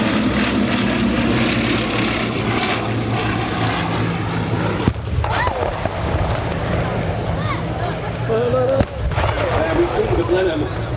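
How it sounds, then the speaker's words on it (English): A Bristol Blenheim bomber flies a display at an air show with pyrotechnic charges, its propeller engines droning loudly and continuously, with sharp explosive bangs near five and nine seconds and a commentator talking over the noise. "There we see the Blenheim. Slightly delayed action fuses, I think, on those bombs, going through its paces in the roll."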